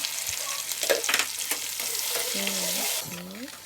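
Onion and pounded pepper frying in oil for a pumpkin stew, a steady close sizzle with stirring scrapes and a few sharper clinks, while a background voice or tone rises and falls near the end.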